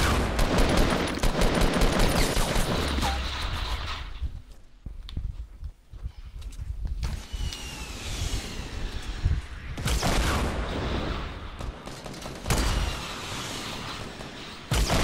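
Rockets fire and explode in the Fortnite video game, a string of loud, close, rough bursts and rumbling blasts with brief quieter gaps between volleys.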